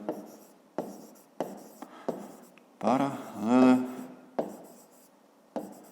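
Short pen strokes on paper sound close and crisp, tapping and scratching in separate marks while a voice speaks briefly in the middle.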